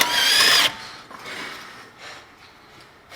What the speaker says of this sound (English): you might want to get a long breaker bar if you don't have an electric gun like this